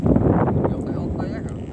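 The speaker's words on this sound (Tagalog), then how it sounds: "Hangin guys." Wind buffets the microphone in a constant low roar, with faint voices and rustling underneath.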